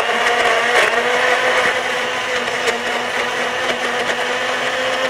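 A blender runs steadily, whirring as it blends fresh fruit and vegetables into juice, a loud continuous motor drone with a few brief bumps and no talking.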